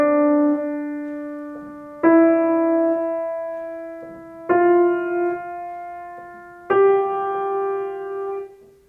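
Piano with the sustain pedal changed too late, four slow notes each struck loudly and ringing into the next so the tones smear together, played alone with no talk.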